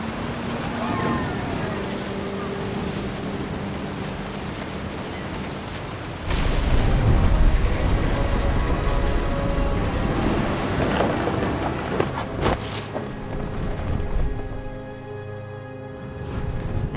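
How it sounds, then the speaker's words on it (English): Thunder and rain in the video game What Remains of Edith Finch: a dense, constant wash of rainfall with deep rolling thunder swelling around the middle and a sharp crack later, loud and close. "The thunder sounded much too close and full of angry power."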